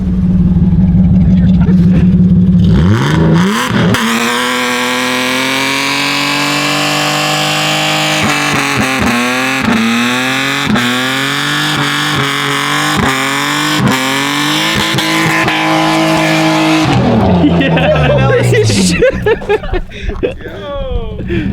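BMW E36 with engine revving hard and both rear tires spinning, a loud sustained wail rising and falling in pitch for most of the stretch, with people talking and shouting over it.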